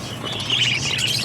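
Pet parakeets chirping excitedly over fresh kangkong greens, a quick run of high, thin tweets and chatter close by, continuous and lively with no talking.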